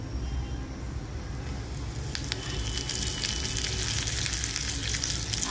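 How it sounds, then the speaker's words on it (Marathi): Cumin seeds splutter in hot oil for a tempering, a close, steady sizzle that grows louder and crackles more densely partway through, with no speech. "आता यामध्ये थोडंसं जिरं घालणार आहे, आणि जिरं थोडंसं तडतडलं की लगेच कढीपत्ता घालायचा"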